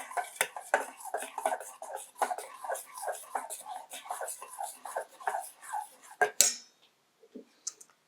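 Chicken tossed and mixed by hand in a bowl, close-up wet slaps and light clinks against the bowl in an uneven rhythm, one sharp knock near the end, then near quiet.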